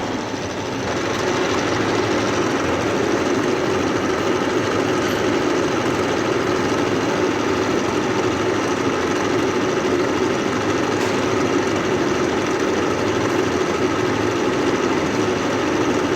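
A mini angle grinder runs at full speed, a steady loud whirring motor whine held without a break throughout, close up with no talking.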